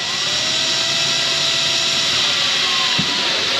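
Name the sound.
power drill drilling holes in Rhino Rack storage case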